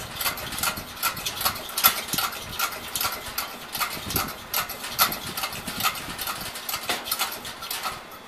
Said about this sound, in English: We're going to just keep pumping until we get pressure.